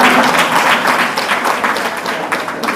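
Dense applause from a conference audience fills the room, steady and fairly loud, fading slightly toward the end.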